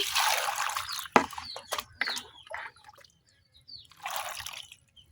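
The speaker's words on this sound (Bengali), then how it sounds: "এখন দিয়ে দিচ্ছি অল্প একটু পানি।" A small amount of water poured into a steaming wok, heard as a short broad splash and dribble followed by scattered drips and a brief later trickle, close and fairly quiet with no talk.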